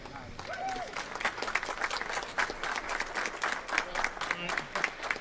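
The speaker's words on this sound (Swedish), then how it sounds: "en stor applåd för Olle som lämnar in där" Audience applause for a presenter at a Swedish event, with steady clapping and sharp scattered claps mixed in, moderately close, and a voice speaking over it.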